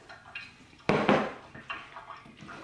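Drained noodles for a budget tuna casserole slide from a pot into a bowl, a wet clattering slump followed by softer scattered knocks and damp thuds against the dish.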